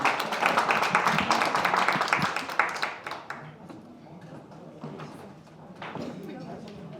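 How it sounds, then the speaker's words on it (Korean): Hearty applause closes a citizen forum in a meeting hall, loud and dense at first, then thinning into scattered claps and fading away, with voices murmuring underneath. "자, 이것으로 힘찬 박수로 올해 첫 경기 시민 포럼을 마치도록 하겠습니다"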